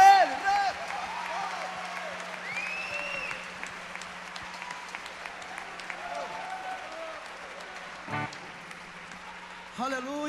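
Applause from a studio audience at a religious variety program, a moderate wash of clapping beneath voices and music, fairly steady with a brief louder burst near the end.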